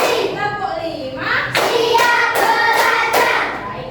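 Schoolchildren in a primary classroom clap their hands in counted bursts, sharp clustered claps separated by short pauses, mixed with children's voices and a teacher speaking between rounds.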